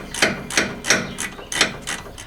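Clicking from a ratchet works on the rear brake caliper of a Ford S550 Mustang, heard as about seven sharp, evenly spaced mechanical clicks, close and distinct with no talk over them.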